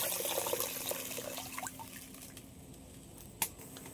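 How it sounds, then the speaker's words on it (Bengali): Coconut water pours into a simmering curry of live-caught koi fish, a close, liquid trickle that fades into a faint bubbling with a single drip near the end. "এবার আমি দিয়ে দেবো এই ডাবের জলটা দিয়ে দিচ্ছি।"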